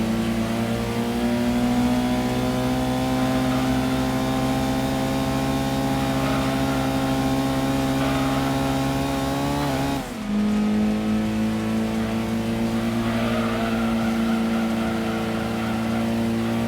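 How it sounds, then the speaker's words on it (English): A race car engine in Gran Turismo 2 holds a steady, loud high-pitched drone, briefly dips as if shifting gears, then climbs back to a sustained whine, with no talking over it. "love the sound of this car."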